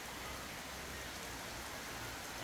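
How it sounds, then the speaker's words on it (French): Light rain pattering steadily on a campsite in French Polynesia as a tent is being folded, a soft, even hiss of drops with no voices. "Et une petite pluie s'est déclarée."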